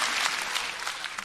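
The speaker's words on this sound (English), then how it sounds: "I appreciate all the applause" Applause sound effect, a steady wash of clapping hands that fills the whole moment at even loudness with no voices over it.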